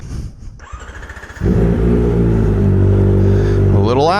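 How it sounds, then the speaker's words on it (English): A Kawasaki ZX-4RR motorcycle with no exhaust fitted is heard first as a rough, pulsing idle. It then jumps to a sustained, very loud wide-open howl that climbs and wavers toward redline, close up, with a brief voice at the start. "let's see what you sound like going wide open with no exhaust, essentially"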